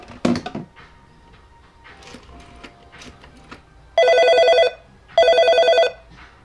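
An old rotary telephone wired into a home intercom system rings loudly with its mechanical bell, two long buzzing bursts close by following quiet handling noises.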